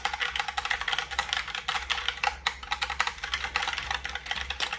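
Rapid typing on a Logitech Pop Keys mechanical keyboard with plastic keys and long key travel, a steady close stream of clicky, clacky keystrokes heard alone.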